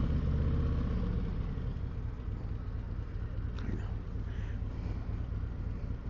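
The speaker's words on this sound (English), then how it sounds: "Let's see if it sounds good with the stock exhaust." Harley-Davidson CVO Street Glide motorcycle on its stock exhaust, a deep steady idle rumble with a slight rev swell near the end, continuous and fairly close.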